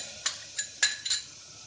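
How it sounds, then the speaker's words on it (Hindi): Pineapple pieces for kesari halwa drop into a pressure cooker on the gas, giving four quick, light clinks and taps spaced evenly apart, close and fairly quiet against a still kitchen. "अब गैस पे कुकर रखेंगे और उसमें डाल देंगे पाइनएप्पल के टुकड़े"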